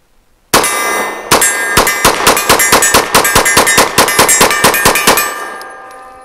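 Rapid pistol fire from a Ranger Arms RA9 rings a steel target, with about twenty loud metallic clangs in a fast steady string and the last ring fading out afterwards.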